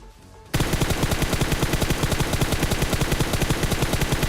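Sustained automatic gunfire from PUBG Mobile breaks in after a brief quiet moment and becomes a loud, rapid, evenly spaced burst of shots that continues without pause, with no talk over it.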